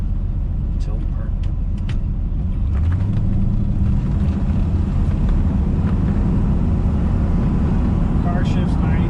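1973 Corvette convertible with a 454 engine driving, a loud steady low engine rumble with gear changes and a rising pitch, heard from inside the car.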